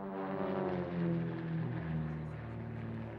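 Military aircraft fly over an air force demonstration at an air show in Verneuil-sur-Seine, giving a steady, loud, droning engine roar with rising and falling tones throughout, with no talk.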